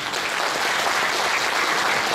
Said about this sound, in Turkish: Onlar için de çok güçlü bir alkış.